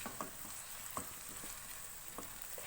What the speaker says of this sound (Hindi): 1 मिनट के लिए इन सारी चीज़ों को भून लेंगे